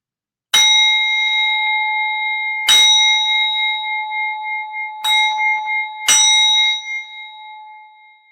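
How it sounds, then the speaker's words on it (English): A singing bowl is struck four times at uneven intervals. Each strike rings with a clear, sustained metallic tone that decays slowly, and the last one fades toward silence. "notice that point where the sound of the singing bowl fades into silence"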